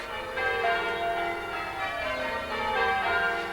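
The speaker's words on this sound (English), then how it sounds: "with the fanfare of church bells ringing out to proclaim the happy event to the townsfolk" Church bells ring out for a wedding, continuously in overlapping peals, steady and fairly loud, with no voices.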